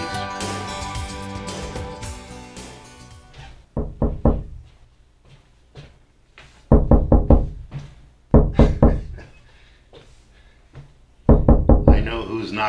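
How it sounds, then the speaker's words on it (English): Knocking on a window: after music fades, several loud bursts of rapid knocks arrive in separate clusters, close and sharp, with quiet gaps between them. "I know who's knocking at the window."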